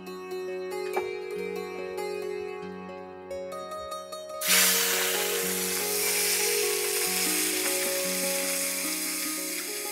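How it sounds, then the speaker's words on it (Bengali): Snails cooking in a pan for a traditional Mahato dish: after a few seconds of quieter background with a steady tonal hum, a loud sizzle bursts in and continues steadily, close and dense, with the hum still underneath. "এবার শুরু হবে শামুক রান্না"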